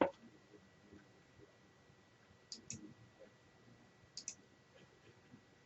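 A computer mouse double-clicks twice in a quiet room, each pair of crisp, close, faint clicks coming about two seconds apart.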